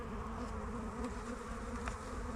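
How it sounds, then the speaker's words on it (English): Honeybees in an opened farm hive during a spring inspection fill the air with a loud, steady, close-up drone of many agitated insects buzzing together. "Tons in there though, buzzing."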